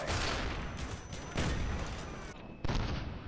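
L96 sniper rifle fire in the video game Black Ops 1, two loud close shots with sharp cracks about 1.3 seconds apart. A third burst follows after a short gap, each decaying briefly.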